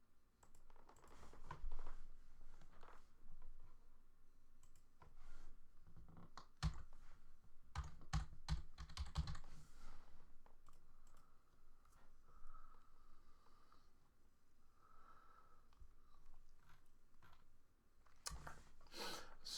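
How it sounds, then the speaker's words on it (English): Computer keyboard typing, bursts of quick clicky keystrokes clustered in the middle and near the end, fairly faint and close, with quieter pauses between. "so I typed Google Chrome"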